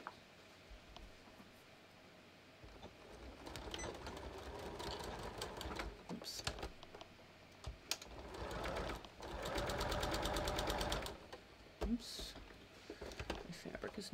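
A sewing machine stitches a pocket bag on a garment with single welt pockets, running in bursts of rapid mechanical whirring and ticking, close up, pausing and restarting, with a person talking quietly at times.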